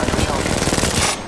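Rapid automatic gunfire in the Apex Legends Mobile battle royale shooter, a loud, close burst of tightly spaced shots that runs for about a second before cutting off.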